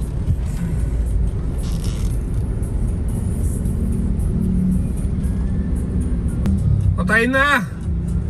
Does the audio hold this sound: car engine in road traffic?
yes